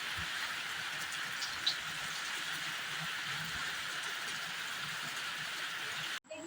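Steady, hissing village rain in Malpe in May falls without pause, an even wash of sound with a brief tap midway and a sudden cut near the end.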